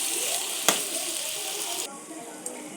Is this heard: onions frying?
yes